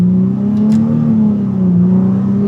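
A tuned Nissan 350Z engine pulls steadily in first gear, a loud, close, sustained drone that climbs slowly without full throttle, with no talk.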